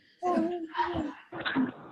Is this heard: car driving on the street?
no